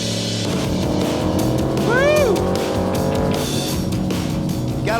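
A Cobra Mark III road race car roars past in an open-air setting, a rising and falling engine sweep that swells midway then settles back to a steady drone, with talk nearby.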